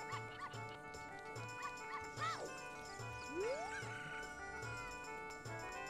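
A puppy in The Legend of Zelda video game barks in a series of short yips and whimpers, repeated at a steady pace over rhythmic game music with a tinkling jingle and a rising sound effect.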